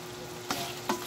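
Chilies drop into a pan of sizzling pork belly, giving a steady quiet sizzle with two brief, sharper bursts of frying as they hit the hot fat.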